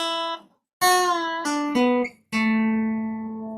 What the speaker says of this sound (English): You can start one as a pre-bend, where you bend the string up to the note that you want